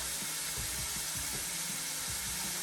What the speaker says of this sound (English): And it's a quick stir. And add them peppers.